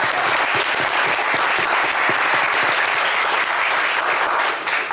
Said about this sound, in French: Allez, Jean-Luc, on vous applaudit.